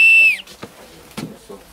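A handheld whistle gives one short, loud, shrill blast that dips in pitch as it stops, followed by quiet handling noises and faint background sounds.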